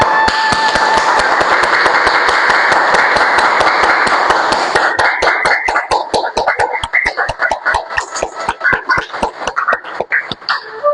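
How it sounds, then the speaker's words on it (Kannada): Hands clap in a yoga session, first under a steady rubbing wash, then as a fast, even run of sharp claps that carries on to the end, loud and close. "ಚಪ್ಪಾಳೆ ತಗೊಳ್ಳಿ"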